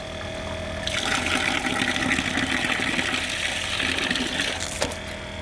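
A 12VDC water pump at an off-grid cabin pushes water through a filtration system, starting with a sudden loud gush and then a steady close rush of flowing water with a constant pump hum underneath, running alone.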